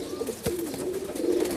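A pigeon gives a short, soft, low coo close by, a single rolling call lasting about a second.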